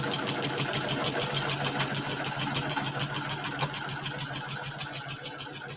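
Sewing machine stitching a mini quilt within an eighth of an inch of the edge, a steady rapid mechanical whir with an even rhythmic pulse, continuous and moderately quiet, with no voices.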